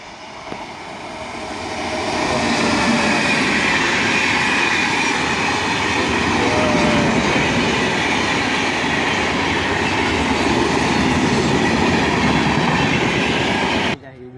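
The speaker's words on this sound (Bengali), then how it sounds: "স্টেশনটা সুন্দর ট্রেন আছে গাইস" An express train runs through a railway station, a loud rumble and rolling clatter that swells after a quiet start, holds steady, then cuts off near the end.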